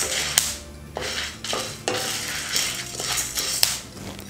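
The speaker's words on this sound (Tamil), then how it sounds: "இப்போ கொள்ளு வெடிக்கிற சத்தம் உங்களுக்கு கேட்கணும்னு" Horse gram crackling and popping while dry roasting in a pan, with repeated sharp pops and scraping stirs at an irregular rhythm, close and fairly clear with no talking.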